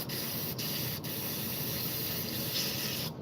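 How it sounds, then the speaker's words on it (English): An airbrush spraying airbrush cleaner through until it runs clear: a steady, continuous hiss of spray runs throughout, with a few brief sharp interruptions near the start, close and fairly loud. "get the airbrush cleaner, keep spraying it until it's basically coming out pretty nice and clear"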